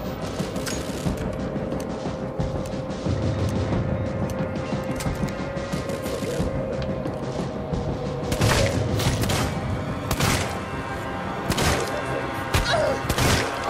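Gunfire and explosions in the video game Alien Isolation, a dense, continuous barrage of shots with heavy booms and thuds and several sharp louder bursts near the end, close and loud throughout.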